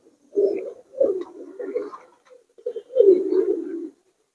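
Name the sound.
Giribaz and Pakistani high flyer pigeons in a loft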